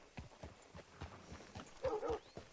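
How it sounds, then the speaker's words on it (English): Horse hooves clip-clop at a walk in the Western open-world game Red Dead Redemption 2, a series of soft, fairly close thuds spread over a couple of seconds, quiet with faint background ambience. "Hitch your horse up here."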